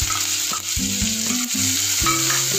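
Finely chopped onion frying in a pan with crackled mustard seeds and cumin, a loud steady sizzle with repeated scraping and knocking of a spoon against the metal, close and continuous without speech.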